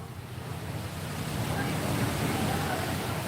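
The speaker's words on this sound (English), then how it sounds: "You can hear the sound of waves." Steady rush of surf breaking and washing in on the coast at Panglao, Philippines, with a low rumble and a touch of wind on the microphone, growing slightly louder, no voices.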